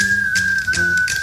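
A bright, sustained whistled tone carries a short jingle, with breathy accents and a soft backing beat underneath.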